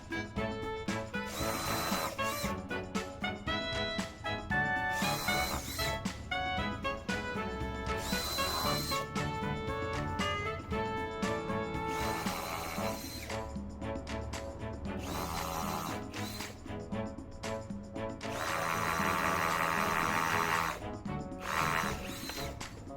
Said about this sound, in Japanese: 印をつけたネジ穴の部分に下穴を開けていきます